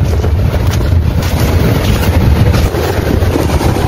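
Strong wind buffeting the microphone over the roar of the sea at Tajpur beach on a cloudy monsoon day, a steady dense rush with no pauses and no voices.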